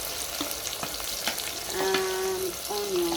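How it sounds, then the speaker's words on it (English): Green pepper and onions hit hot cooking oil and sizzle steadily, with a faint tonal squeak and light stirring noise close by. "Our cooking oil is ready. I'm adding all the ingredients together."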